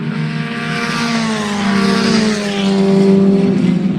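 Historic Formula Ford race cars run at Castle Combe in a 2016 race, their engines loud and close with a steady high drone that shifts pitch as the cars pass, no voices over it.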